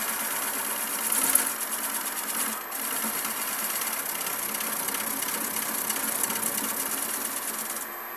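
A Sovereign Ultima lathe runs with a steady mechanical whir and high hum, constant and close, with a brief dip partway and no talk.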